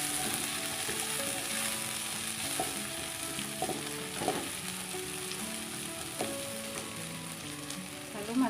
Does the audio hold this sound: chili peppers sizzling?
yes